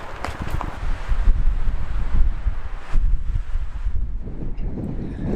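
Strong gusting wind on a mountain hilltop in a canyon area, a loud rumbling roar of wind buffeting the microphone with a rustling hiss that swells and eases.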